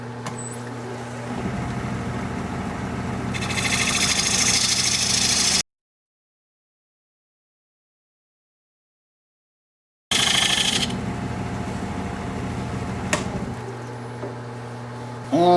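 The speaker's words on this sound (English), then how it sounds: "I'm going to switch to a 3/8 inch standard grind bowl gouge to try and flatten this bottom" A 3/8 inch standard grind bowl gouge cuts the bottom of a small sycamore bowl spinning on a lathe, a steady rough scraping hiss over the motor hum, breaking off into a silent gap before resuming.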